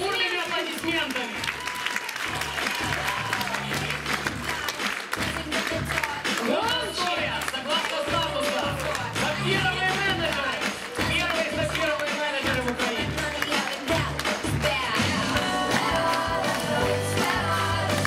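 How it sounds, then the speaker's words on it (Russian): Loud, continuous applause from a large audience at a company celebration event, a dense wash of clapping mixed with voices and music throughout. "Встречаем бурными аплодисментами."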